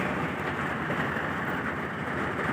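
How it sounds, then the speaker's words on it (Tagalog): Heavy rain pours steadily during a sudden downpour, a dense, loud, unbroken hiss with low rumbling underneath, while thunder rolls. "kumakulog-kulog-kulog pa oh"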